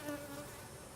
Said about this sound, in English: I'm amazed at how many bees are here.